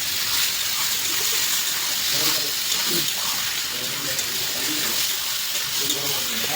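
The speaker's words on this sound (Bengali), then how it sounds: "কষানোর জল দিয়ে দিচ্ছি" Water poured from a bottle into a braising curry makes a continuous gushing splash, mixed with soft sizzling from the pan for several seconds.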